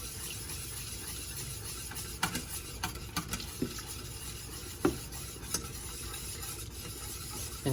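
A whisk scrapes and stirs cheese sauce in a pan for mac and cheese, a close, continuous swishing with occasional sharp metallic clinks against the pan, with no talking.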